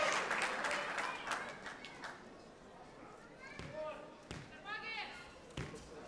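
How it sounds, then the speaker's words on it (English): Crowd at the 2014 World Squash Championship final cheering and clapping, a swell of applause fading out under commentator talk, with sharp ball and court thuds between. "The crowd doing their best to try and lift the spirits of Ramy Ashour."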